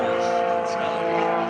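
Propeller aerobatic airplane performing hammerhead turns and rolls at the 2013 New Garden Airshow, a steady droning engine with a rising and falling whine, carried under ongoing announcer commentary.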